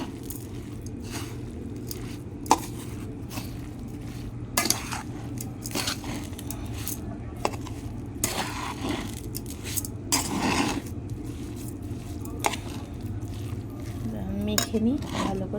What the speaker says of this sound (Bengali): এবার আমি ভালো করে এটাকে মেখে নেব।